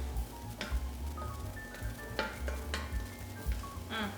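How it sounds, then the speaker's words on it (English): Tuscan tomato soup is stirred in a pot, with faint scraping and a low sizzle broken by a few short clinks, quiet and close. "All right, so we're gonna stir this around."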